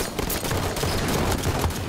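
Halo 5: Guardians multiplayer gunfire, a dense, continuous barrage of loud overlapping shots filling a brief moment without pause.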